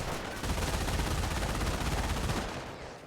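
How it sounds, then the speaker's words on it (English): Bren light machine guns of two squads firing in a Company of Heroes 1 World War II battle, a dense continuous rattle of automatic fire with overlapping bursts, loud and steady for about two seconds before easing off. "Bren Squad getting hit. Both Brens are firing."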